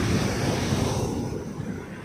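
Ocean waves and wind at the shore roar in a dense, close wash of surf and gusting noise, loud at first and easing slightly toward the end, with no voices.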